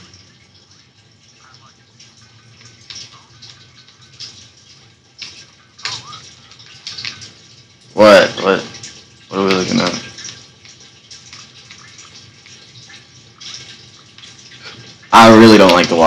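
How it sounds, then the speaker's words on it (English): Trickling, running water ambience in the game Growtopia, a faint steady wash with small drips continuing in the background while a person speaks loudly in short bursts over it. "I really don't like the water noise."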